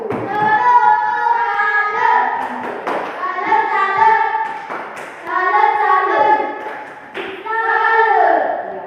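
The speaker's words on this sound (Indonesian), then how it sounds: "Tepuk salut untuk kelompok 1." Schoolchildren in a classroom perform a 'tepuk salut' for group 1, a rhythmic clapping chant. Sung voices carry the pattern, with sharp hand claps and taps marking the beats in repeated bursts, close and loud.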